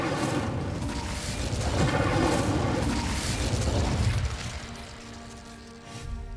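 Incendio fire spell bursting in Hogwarts Legacy, a loud, dense roaring blast that swells through the middle and fades, with a brief flare near the end.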